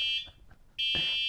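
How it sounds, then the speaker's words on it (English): Beeping horn of a DYU D1 12-inch folding electric bike, two steady electronic tones with a short gap between them, loud and close, with no talking. "Beep. We're backing up."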